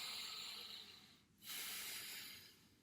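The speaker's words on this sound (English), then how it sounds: "breathing deeply, taking deep breaths" Slow, deep breathing close to the ear: a long hissing breath, a brief pause, then another full airy breath, soft and steady with no talking.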